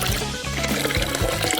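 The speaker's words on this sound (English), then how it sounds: "Twist the lid and let it pour." Liquid glugs and splashes as it pours from a bottle, with rhythmic gulping bursts close by.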